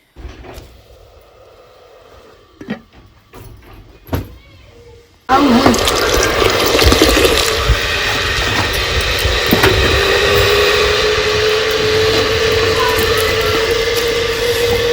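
Water on a village clay cooking stove comes in after a few quiet seconds of soft knocks, then rushes and bubbles loudly and continuously with a slowly rising tone.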